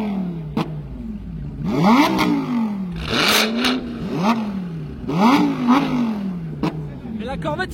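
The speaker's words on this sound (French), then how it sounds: "Mais la Corvette il est même pas à 4000 tours, hein." A Corvette at a supercar gala revving hard several times in succession, each loud rising-and-falling engine roar close by, with people talking over it.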